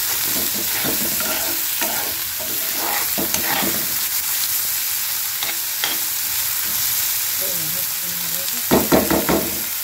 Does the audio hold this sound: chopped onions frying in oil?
yes